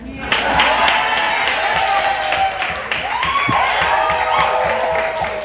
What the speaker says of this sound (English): We get a free applause anyways.